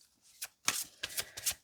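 A deck of Goddess Guidance Oracle cards is shuffled close up, giving several quick riffling, flicking bursts with short pauses between them.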